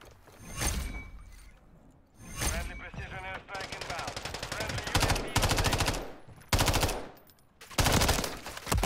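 MTZ-556 rifle fire in Modern Warfare 3, loud bursts of automatic shots in several rapid strings with brief pauses between them, sustained over the whole stretch and close to the listener, with game effects mixed in.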